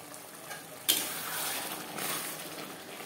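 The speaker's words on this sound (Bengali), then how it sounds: "দু 3 মিনিট মশলা বেশ ভালো করে কষিয়ে নেব।" Spices for a silver carp and potato fish curry sizzle in a pan as they are stir-fried. A sharp burst of frying opens the clip, then a steady hiss continues close by with light stirring scrapes.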